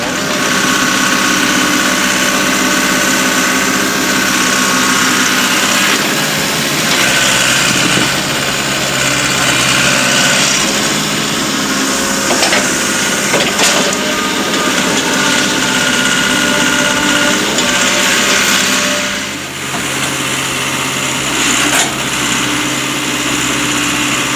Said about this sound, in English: So here you see the hole being dug so that the boat could be floated again.